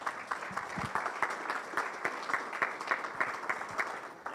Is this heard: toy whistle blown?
no